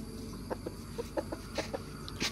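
Chickens cluck softly in a coop, a series of short, irregular clucks spaced across a couple of seconds at low volume over a quiet background.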